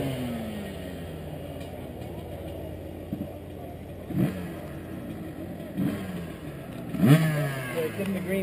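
A 250cc motorcycle engine revs during a ride, a mid-pitched buzz rising in several surges with louder bursts near the end, heard from a distance while people talk over it.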